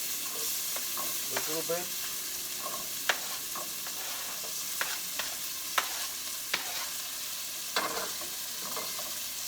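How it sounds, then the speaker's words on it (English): Chopped onion sautéing in a pan with cumin for beans with potatoes, a soft steady sizzle broken by scattered scrapes and taps of stirring; a brief spoken phrase is heard. "I already chopped the onion. Saute it"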